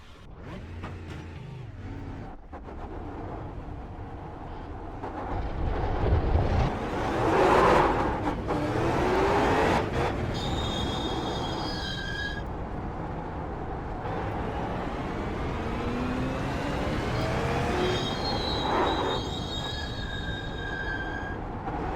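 A super late model race car engine in iRacing at the LA Coliseum revs and drones loudly, with rising and falling pitch sweeps and sharp high whines, and no talk.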